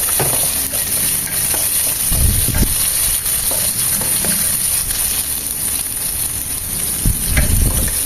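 Sliced onion going into hot oil with golden-browned garlic for an ampalaya dish, a loud constant sizzle and crackle with occasional scrapes and stirs of the utensil, close up and without voices.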